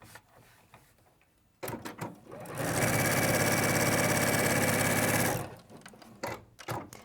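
A sewing machine stitches fabric along a quarter inch seam, running in one loud, steady, continuous burst for a few seconds, framed by handling clicks and fabric shuffling before and after.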